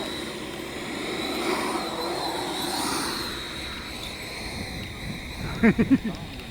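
A FreeWing Stinger 90 RC jet plane flies past, its motor a steady, rising and falling rush that sweeps across the sky at moderate distance, with a few short voiced sounds near the end.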